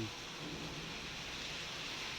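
Heavy rain pours down in a constant, dense hiss, steady and unbroken, with a faint low rumble underneath.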